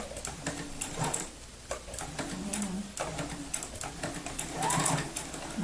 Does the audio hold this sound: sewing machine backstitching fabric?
yes